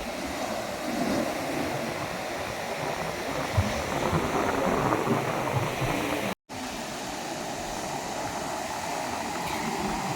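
Sea waves breaking on Achara beach, a continuous wash of surf and rushing water heard close and fairly loud, with one brief dropout partway through and no talking.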